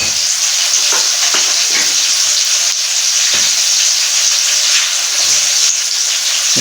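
Onion with ginger-garlic paste frying in oil in a wok, a loud, hissing sizzle that stays even throughout, broken by a few stirring scrapes, heard close with no speech.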